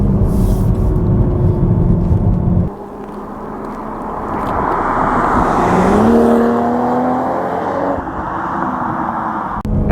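A 2022 Toyota Supra 3.0 Premium drives on tight, twisty roads, its engine droning loudly and steadily inside the cabin, dipping off the throttle, then rising and falling in pitch through gear changes amid constant road roar.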